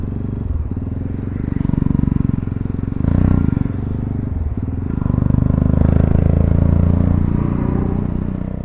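Jawa Perak motorcycle riding along a road through marble and granite country near the Rann of Kutch, a loud continuous engine thrum with steady rumble, slight rises and dips in power, heard from the rider's position.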